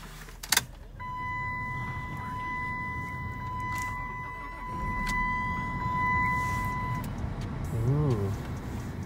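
A 2006 Dodge Stratus cranks and starts after new spark plugs and coil wires, a sharp click, then a steady close idle rumble with a whining chime tone, and a voice reacting near the end.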